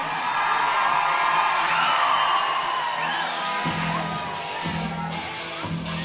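A roller derby crowd whooping and cheering for the Hellcats in Austin, Texas, a loud mass of yells and shouts that swells early and then fades slightly, with an announcer's voice mixed in.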